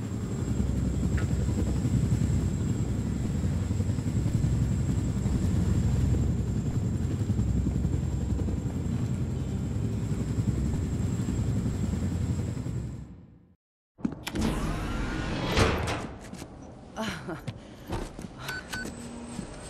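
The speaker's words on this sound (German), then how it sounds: "Unser Piloten sitzt im letzten Hubschrauber." A helicopter in the video game Wolfenstein: The New Order drones with a loud, steady rotor roar for about thirteen seconds, then cuts out briefly before other game sounds and clatter take over.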